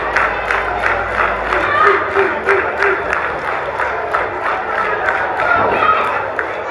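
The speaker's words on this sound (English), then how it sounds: "Crowd getting behind Zeke right now. They're trying to rally behind him." A wrestling crowd rallies behind wrestler Zeke West, a dense continuous roar of cheering and rhythmic clapping filling the arena, loud and steady throughout.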